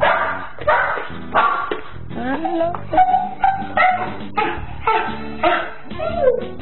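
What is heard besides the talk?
pet dog barking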